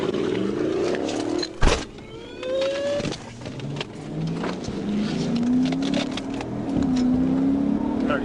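A maroon Chevy Caprice idles at a roadside traffic stop on a service road, its engine a low steady rumble under crackling police radio chatter and a brief loud thump, with voices intermittently present.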